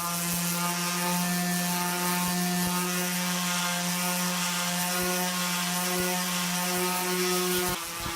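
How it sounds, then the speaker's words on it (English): Power sander grinding across a steel axe head, a steady loud mechanical whir with a constant tonal hum and occasional faint clicks, close and continuous. "Then I could machine sand the whole axe head from 40 to 240 grit."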